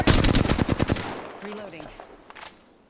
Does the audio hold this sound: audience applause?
no